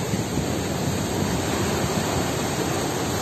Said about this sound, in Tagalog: medyo malalakas na yung alon